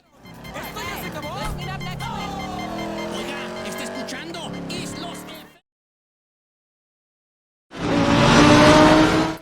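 A race car in the Assetto Corsa Competizione video game drives hard, its engine pitch rising and falling through gear shifts with tire squeal, then a silent gap before a loud burst of engine and road noise resumes.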